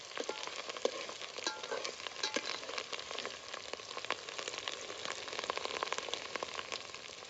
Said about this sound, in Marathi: आधी फोडणीला कोथिंबीर टाकली